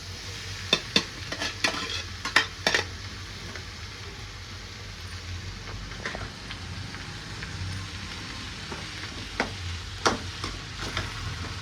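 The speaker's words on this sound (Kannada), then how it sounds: "ಕಾಳನ್ನು ಒಗ್ಗರಣೆಯಲ್ಲಿ ಹಾಕಿಕೊಳ್ಳುತ್ತಿದ್ದೇನೆ." Cooked sprouted gram stirred into a sizzling tempering for a rustic Karnataka-style uppsaru: a soft, steady fry hiss continues throughout, with bursts of close spoon scrapes and clacks against the pan.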